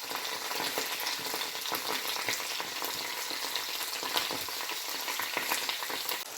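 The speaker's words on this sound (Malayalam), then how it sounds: "നമുക്ക് കുറേശ്ശെ അങ്ങോട്ട് ഇട്ട് ഫ്രൈ ചെയ്തെടുക്കാം." Chili-marinated fish pieces fry in a pan with a steady, dense, close-up sizzle and crackle that holds throughout, with no talking.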